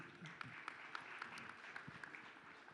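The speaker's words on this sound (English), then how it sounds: "A big round of applause to Riaz, please." Faint, distant applause from a crowd, with a few sharper individual claps ticking out at a regular pace above the soft patter.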